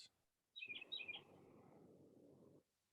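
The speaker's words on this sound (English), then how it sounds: "That bird that we just heard" A bird sings outdoors with a few bright, high chirps over a soft background hiss, faint and brief, followed by quiet ambient noise.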